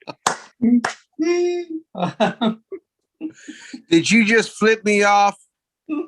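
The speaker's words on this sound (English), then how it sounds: "I just clapped my hands." A sharp hand clap sounds close by during a relaxed indoor conversation, quick and percussive among spoken lines, with voices talking before and after it.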